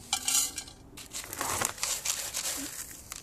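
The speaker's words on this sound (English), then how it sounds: "I am going to add some soil to the bottom of the pot" Gritty soil of lava rock and Chattahoochee stone poured into the bottom of an oval bonsai pot, a close crunchy rattling and scraping in uneven bursts over about three seconds, with no talking.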